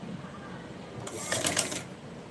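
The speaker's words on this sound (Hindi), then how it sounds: "अब हम आधा इंच का मार्जिन देते हुए इसकी सिलाई करेंगे" A sewing machine stitching patiala salwar fabric with a half-inch margin, a short close whirring burst of rapid needle clatter lasting about a second after a quiet start.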